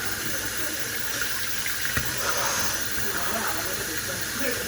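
A tap runs steadily while hands are washed, making a continuous hissing water stream with faint splashes and a brief knock partway through.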